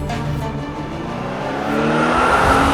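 A car driven fast, its engine droning steadily and climbing in pitch and loudness toward the end, with no voices.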